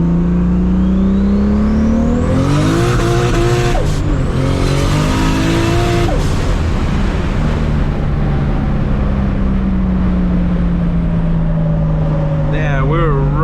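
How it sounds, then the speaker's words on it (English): An 800+ horsepower Toyota Supra MKIV engine roars hard in second gear, revs climbing and dropping through shifts as the tires spin, loud and close from inside the car, with people talking over it. "we were roasting the tires, but it was still moving forward"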